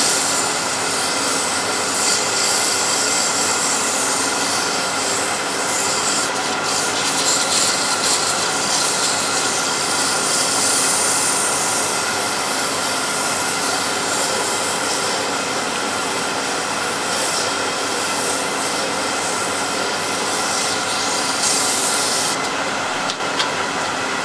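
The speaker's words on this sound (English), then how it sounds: "just sand this a little bit. You can start with 240 grit" Steady broadband hiss of 240-grit sandpaper pressed against a spinning wood turning on a lathe after parting off, a continuous loud whir with the lathe motor's hum underneath and no voices.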